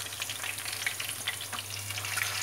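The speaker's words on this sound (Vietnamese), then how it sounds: "để mình lật cái miếng thịt này lên nha, để mình chiên cái mặt trên" Pork with its skin frying in hot oil in a pan for Vietnamese crispy roast pork: a steady, close, dense sizzle with scattered sharp crackles and pops over a low hum, no voices.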